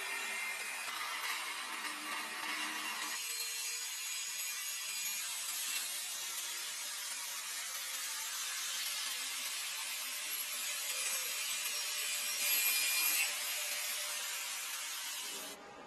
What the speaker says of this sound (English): Various tasks require simple cutting and shaping of metals like aluminum and then reattachment.